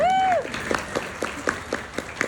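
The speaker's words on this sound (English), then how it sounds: "All right, round of applause for that." A fan convention audience at Galaxy Con Raleigh gives a brief round of applause in loose, rhythmic claps that thin out quickly, with a whistle-like tone at the very start and faint voices mixed in.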